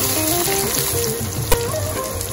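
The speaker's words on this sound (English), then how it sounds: "Once the onion is little transparent, let's add the roughly chopped tomatoes to it." Roughly chopped tomatoes frying with onions in a pan, a dense, steady sizzle with a brief clatter midway.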